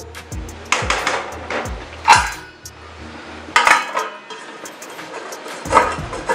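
Metal lid set onto a cooking pot of chicken curry, a series of sharp clanks and clatters of metal on metal, several distinct knocks spaced apart, close and fairly loud in a quiet kitchen.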